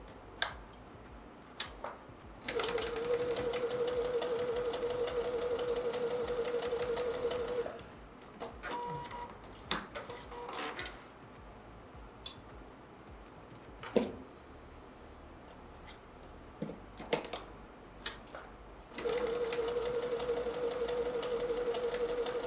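A sewing machine stitches a Shoofly patchwork quilt block in two long bursts of steady, high-pitched motor whine, with quieter handling clicks and rustles between them, close by.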